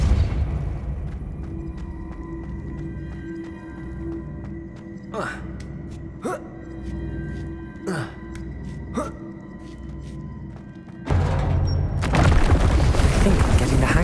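In Hogwarts Legacy, played on hard difficulty, a handful of sharp Depulso spell blasts snap out one after another over a low hum. A louder, rumbling burst then swells near the end, with a voice heard faintly.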